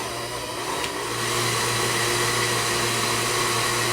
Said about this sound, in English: you have to plug in the mixer